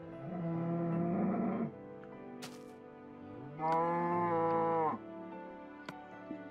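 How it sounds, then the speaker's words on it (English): A Minecraft cow moos loudly and nearby in two long drawn-out calls separated by a short pause, with faint clicks and thumps from play around them. "God, this cow is loud."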